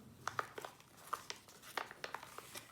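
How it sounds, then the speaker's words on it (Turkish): Paper is folded into an origami budgie, giving soft, scattered crinkles and crisp creasing clicks, close and quiet. "Bu baklava şeklini içeriye doğru katlıyoruz."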